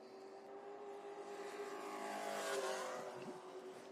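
Racing truck number 24 lapping Five Flags Speedway, a half-mile track, its engine a steady high drone that swells as it passes and then fades, heard from a distance and fairly faint.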